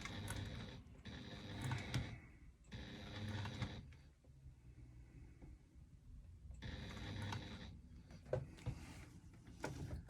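A hand-cranked sewing machine stitching a woven bag: quiet, rhythmic mechanical clatter in bursts of a few seconds each, with a lull in the middle before the stitching resumes.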